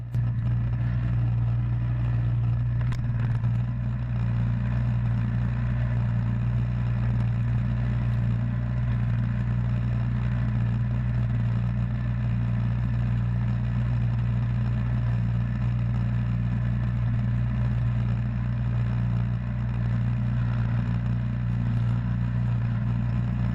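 A Yard Machines two-stage gas snow thrower engine runs steadily and strongly, a constant droning hum with no pauses or change in pitch, loud and alone throughout.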